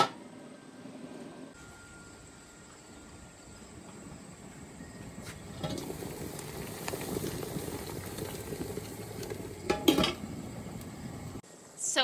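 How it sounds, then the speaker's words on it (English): A water canner holding jars of tomato juice bubbles at a rolling boil, a steady close simmering rumble with brief clinks of metal and glass. "now that these are at a rolling boil"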